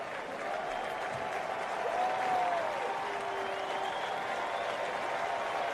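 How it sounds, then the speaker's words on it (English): A Tuesday night crowd at Oriole Park, Baltimore, roars in a sustained, broad ovation for returning player James McCann, with steady applause and cheering that swell slightly mid-way and hold throughout. "James McCann is announced to Oriole Park, and it's a slow building ovation"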